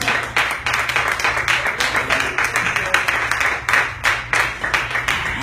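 Members of a church congregation clap together in praise, a dense, lively wash of hands with a fairly even rhythm, loud and sustained throughout.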